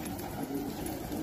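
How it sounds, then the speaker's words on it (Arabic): Pigeons coo softly in a loft or coop, a low murmuring call repeated over a constant faint background, with no voices. "هاي بلشنا نحطط الحمام امورنا تمام."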